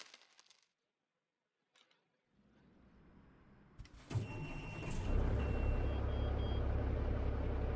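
Custom Peterbilt truck in American Truck Simulator, fitted with a non-loping 1,088 horsepower engine, starts up after a few clicks and near silence, then settles into a loud, smooth, steady idle rumble.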